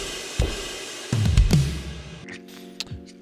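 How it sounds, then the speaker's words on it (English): A drum fill built from crash cymbal and kick drum one-shots in Ableton: a few punchy booming hits with splashy crash wash, spaced unevenly, then a quieter tail with a final light hit. "I just used literally a crash and a kick drum"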